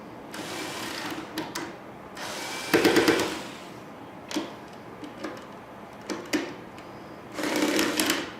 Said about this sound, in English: So first, we're going to remove the 4 screws here.